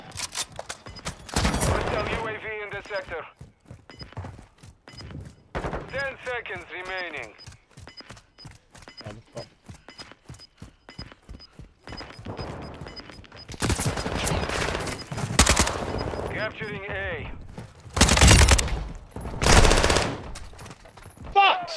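Rapid bursts of automatic gunfire and single shots in a shooter video game, erupting in clusters with quiet gaps between them, while a player talks over parts of the action.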